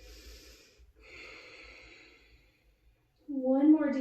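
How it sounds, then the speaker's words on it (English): Slow deep breaths during a restorative stretching exercise, a long soft inhale and exhale of airy breath, then a louder, voiced sigh-like exhale at the end, close and quiet, with no other talk. "Couple of breaths here."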